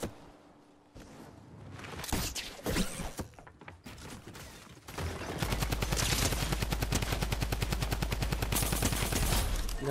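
A Thompson submachine gun firing in the Fortnite video game Chapter 2 Remix. Scattered shots come first, then a long, loud, rapid automatic burst over game sounds, with no talking.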